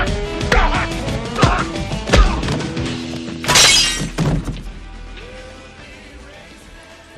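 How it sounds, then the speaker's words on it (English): Liquor bottles smashed during a choreographed four-on-one bar fight in a 1989 film, with sharp thuds and whacks and a loud burst of shattering glass midway, then fading debris. "Here they got the boys smashing up the liquor that's coming."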